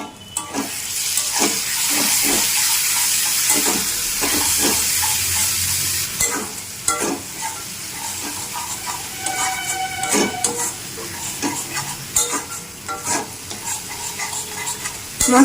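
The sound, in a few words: frying and stirring masala paste with ginger and dried chili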